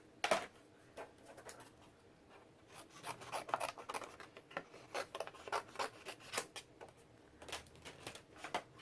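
Scissors cutting out a stamped paper piece: close, soft snipping and rustling in irregular bursts, quiet and crisp with brief pauses between cuts.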